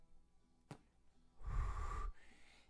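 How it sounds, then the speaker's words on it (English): A sharp click, then a long breathy exhale of cigarette smoke with airy rushing noise, close up and quiet. "Yeah, that's the sound of me smoking"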